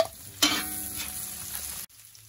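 Chopped onion drops into hot margarine in a pan with garlic, setting off a sudden loud sizzle and crackle that holds steady, then cuts off sharply and leaves a quieter hiss.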